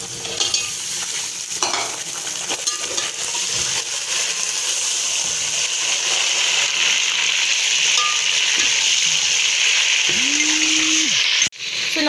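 Meat and browned onions sauté in a pan with a steady sizzle, stirred now and then with scraping and clinks, close and continuous.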